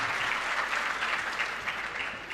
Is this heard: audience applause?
yes